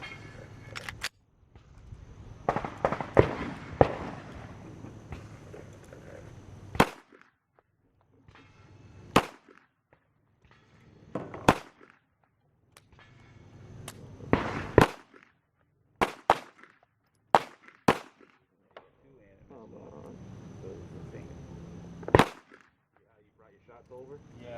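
Pistol shots from a SAR-9 fired at a circle target on an outdoor shooting range, several sharp loud cracks spaced irregularly, with talk and handling noise in between.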